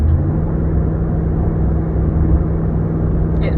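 A 2003 Dodge Ram's 5.7 engine runs steadily, giving a loud, even low rumble and whir from inside the cab with no other sounds.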